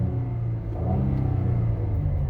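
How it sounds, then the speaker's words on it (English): Chevy Camaro engine idling and lightly revving, a steady low rumble that swells slightly mid-way and holds, with no voices over it. "if I rev my engine right now, it's not that loud"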